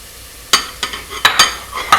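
Onions frying in a pot for vegan lentil tortilla soup, stirred in several sharp, close scrapes and clinks of a utensil over a soft background sizzle, no voices.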